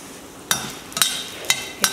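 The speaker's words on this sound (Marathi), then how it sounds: "हे छान परतून घ्यायचं। धणे पण छान भाजले गेले पाहिजे आणि मिरच्या सुद्धा।" Fenugreek seeds, coriander seeds and chillies are sautéed in a pan, with four sharp knocks of a spoon against the pan, roughly evenly spaced, over a faint hiss.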